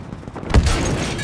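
Suppressing gunfire in the Battlefield 5 video game, a single heavy blast erupting midway with a low boom and a decaying rumble over constant battlefield noise.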